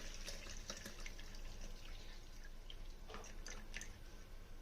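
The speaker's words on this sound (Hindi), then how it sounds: "अब हम स्ट्रेनर में से रख के इसका पानी जो है वो पहले निकालेंगे" Soaked thandai ingredients draining through a kitchen strainer, a steady trickle and splash of water running continuously with small drips, close and moderately quiet, no talking.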